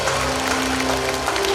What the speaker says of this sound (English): let's give a big round of applause for our guest of honor, Shri Udayaditya Gogoi sir